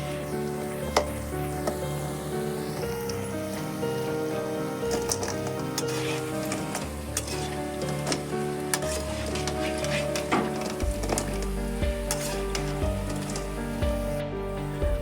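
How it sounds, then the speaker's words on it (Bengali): Pakoras deep frying in hot oil give a steady, close sizzle and bubbling crackle that runs continuously, with occasional stirring clinks and scrapes in the pan. "ঠিক এইভাবে লাল লাল করে ভেজে নিতে হবে, তাহলে পকোড়াগুলো মুচমুচে হবে।"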